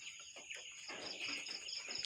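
Chickens clucking and calling on a poultry farm over a steady background hum, with a busy run of cackling in the second half.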